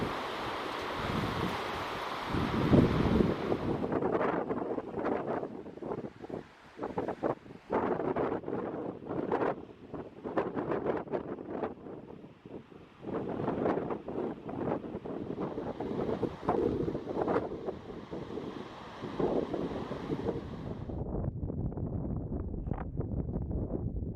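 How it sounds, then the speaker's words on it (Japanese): Strong wind buffets the microphone on a coastal trekking path on the Suzaki promenade in Shimoda, Izu, where gusts roar steadily for the whole stretch, with surf-like rushing underneath and no talk. "この場所は常に強風が吹きすさぶ風の通り道であると語っていた"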